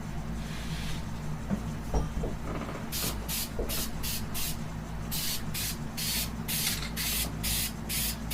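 Aerosol spray paint hissing onto a wooden scroll-sawn horse, red coat going on in a string of short, loud bursts of roughly half a second, close by, with a low hum of the room underneath.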